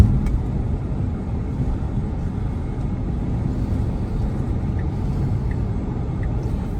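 A car on Full Self-Driving merges onto Interstate 40 heading toward Oklahoma, steady in-cabin road and engine rumble with tyre noise, continuous and fairly loud, no talking.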